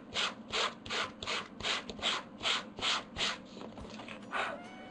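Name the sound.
sanding textured embossed paper card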